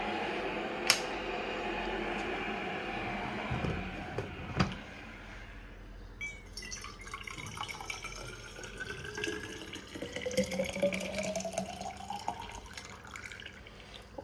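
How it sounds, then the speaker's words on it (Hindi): Hot water runs from a tap into a container at home, with a few sharp clinks early on, then a steady pour whose pitch rises as the vessel fills, close and moderately loud. "ज़्यादा जल्दी गर्म पानी हो जाता है तो मैं भर के रख देती हूँ।"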